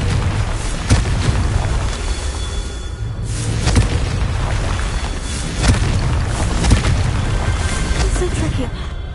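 Confringo blasting spell explosions in Hogwarts Legacy gameplay: a run of booming blasts and bursts over continuous rumbling game noise, with strong hits near the start, middle and end and a voice speaking briefly over it.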